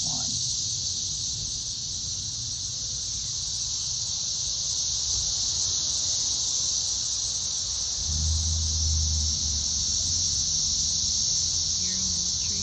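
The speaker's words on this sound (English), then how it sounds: "Hear them in the trees?" Thousands of 14-year cicadas in yard trees in Tennessee make a loud, unbroken high-pitched droning buzz, with a person talking faintly underneath and a low rumble joining partway through.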